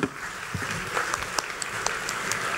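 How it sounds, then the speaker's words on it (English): Audience at a community volunteer awards night applauding themselves, a steady moderate clapping with a few sharper individual claps standing out and faint voices beneath. "please give yourselves a round of applause"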